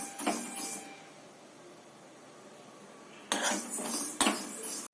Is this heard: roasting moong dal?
yes